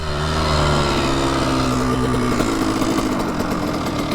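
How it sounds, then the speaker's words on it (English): A Honda CR125R two-stroke dirt bike engine runs loud and close on pavement, with a buzzy, raspy drone and rising revs. "The dirt bike's just too quick, so I'll take the dirt bike real quick."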